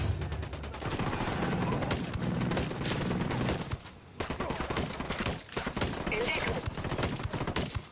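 Gunfire in Tom Clancy's Ghost Recon Wildlands crackles in rapid bursts, dense volleys of shots with a short pause midway, loud and continuous.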